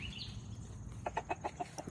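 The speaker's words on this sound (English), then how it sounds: "These are our chickens." Chickens cluck in a quick run of short, soft notes, fairly close, over a faint background hum.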